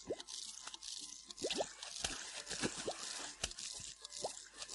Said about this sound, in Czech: Něco skočilo do vody.